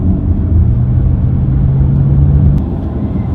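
Cabin of a Porsche Taycan Turbo electric car being driven on a road, with a loud, steady low road rumble and a faint tonal whine throughout.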